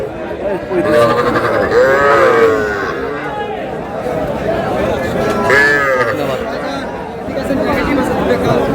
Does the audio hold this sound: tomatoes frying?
no